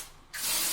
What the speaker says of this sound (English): it's like a powder texturizing spray